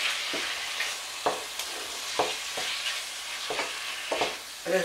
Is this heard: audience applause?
no